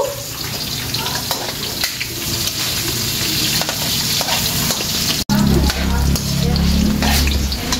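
Chopped onion sizzling in hot oil in a pan for a Filipino home recipe, a steady loud crackle with occasional stirring scrapes and a low hum, intensifying after a brief cut partway through.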